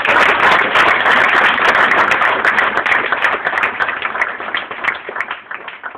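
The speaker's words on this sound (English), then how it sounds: "why don't we all give them a round of applause" An audience at a college Republicans call-out meeting in Bloomington, Indiana gives a round of applause, loud dense clapping that fades slightly toward the end, with no talking over it.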